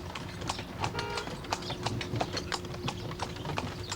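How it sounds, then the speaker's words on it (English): Horse hooves clip-clop steadily at a brisk walking rhythm as a horse-drawn kalesh coach travels between the temple complexes of Luxor and Karnak in Egypt, with a faint mechanical creak and rattle of the carriage underneath. "a tourist can cover the distance between the two temple complexes of Luxor and Karnak in one of the popular horse-drawn coaches known as Kalesh"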